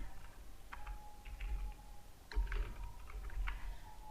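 Header text being typed on a computer keyboard, a quick run of clicky keystrokes in two short bursts at close range over a faint steady background hum.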